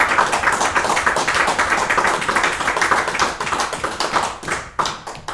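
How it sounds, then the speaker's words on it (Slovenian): Lecture audience at a comics talk applauding in a sustained, dense burst of many hands clapping, fairly close and loud, thinning slightly toward the end with a few separate claps. "da se zahvalimo z enim velikim aplavzom za tole predavanje"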